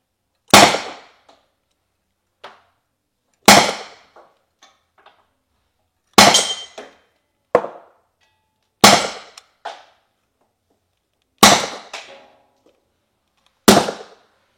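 Sharp, loud reports from a Chiappa LTL less-lethal pistol during a muzzle-velocity test. There are seven distinct cracks spaced a few seconds apart, each decaying quickly, with faint metallic clicks between them.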